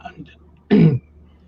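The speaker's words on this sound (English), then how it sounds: "I'm just coughing a little bit here." A single short, rough cough bursts out after a brief murmur of voice, followed by quiet.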